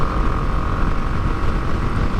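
A single-cylinder 249cc FB Mondial HPS 300 motorcycle ridden past, its engine a loud, steady buzzing drone with a rough low pulse throughout.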